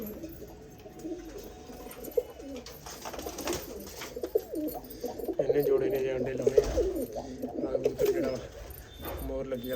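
Pigeons coo in a loft where they sit on eggs, soft rolling calls overlapping at close range, with someone talking in between and some faint background noise.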